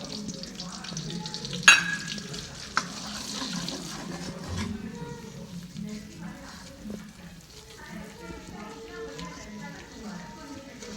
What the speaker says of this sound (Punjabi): ਇੱਕ ਕੌਲੀ ਆਟੇ ਦੀ ਲੈਣੀ ਹੈ ਇੱਕ ਇੱਕ ਕੌਲੀ ਘਿਓ ਦੀ ਲਈ ਆਪਾਂ ਹੁਣ ਆਪਾਂ ਇਸ ਨੂੰ ਭੁੰਨਾਂਗੇ ਚੰਗੀ ਤਰ੍ਹਾਂ